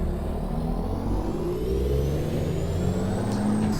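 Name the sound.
Kenworth W900 truck engine in American Truck Simulator video game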